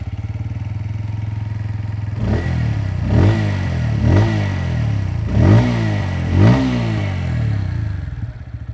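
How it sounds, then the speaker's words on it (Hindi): A Bajaj Pulsar P150 150cc motorcycle idles with a deep, thumpy exhaust note, then revs up in four or five rhythmic throttle blips before settling back to idle. "जो इसका एग्जॉस्ट साउंड है ना वो काफ़ी ज़्यादा बेसी और थम्पी है"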